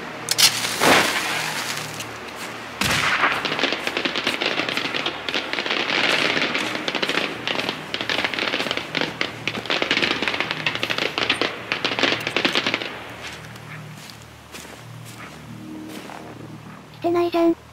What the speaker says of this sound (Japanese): 少し花火でおびき出しますか。